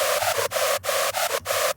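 Sylenth1 synth screech with pitch A raised fully and pitch B lowered fully, a harsh, bright, noisy tone in short stuttering bursts with brief gaps, loud and up close, alone.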